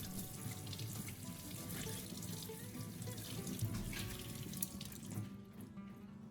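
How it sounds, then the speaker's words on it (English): A faucet runs steadily into a sink while ginger is rinsed under the stream, close by, the water briefly shifting in tone. "wash the ginger thoroughly under running water"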